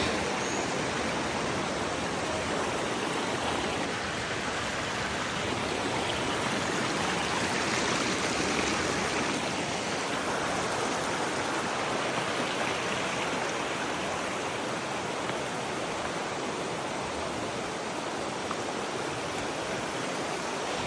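River water rushing steadily beside the hiking trail at the start of the Mt. Labo climb, a constant broadband wash of flowing water that stays even and unbroken throughout, with no voices.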